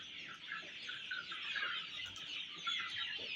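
Faint, distant chickens clucking and murmuring continuously on a desi poultry farm, with soft overlapping bird calls and no talking.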